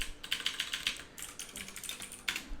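Fast, light clicking of typing on a computer keyboard, an uneven run of close, quiet keystrokes with brief pauses between short bursts.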